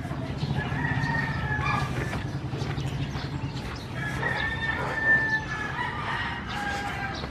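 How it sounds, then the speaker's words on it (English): Several roosters crow at a distance over a busy mix of clucking and other farm-animal noise in a squatters' area in the Philippines, overlapping calls with no clear talking. "Ton of roosters back in here."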